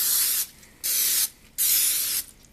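Olive oil is sprayed into a cake pan in three hissing bursts, each about half a second to a second long, loud and close with brief quiet gaps between them.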